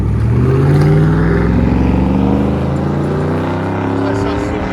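A lifted 2015 Chevy Suburban LTZ with a 5.3L V8 and Dynomax Race Bullets dual exhaust revs loudly and close by, a deep, rising engine roar with people talking over it.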